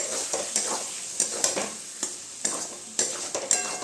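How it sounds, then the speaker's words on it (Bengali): Beaten eggs being stirred through fried brinjal in a pan, with steady sizzling and repeated sharp spatula scrapes and taps against the pan, close and alone without speech. "ভালো করে একটু নাড়াচাড়া করে নেব যাতে সব বেগুনগুলো গায়ে একটু ডিমটা লেগে"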